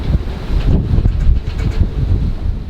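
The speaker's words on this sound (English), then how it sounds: "25 knot gust." A 25-knot wind gust strikes a sailboat, producing loud, continuous rushing and buffeting that fills the entire moment without a break.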